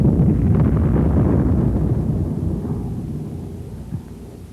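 An 81 mm mortar high explosive shell bursting, a heavy low rumbling boom that rolls on and slowly fades over several seconds, with a faint thump near the end and no voices.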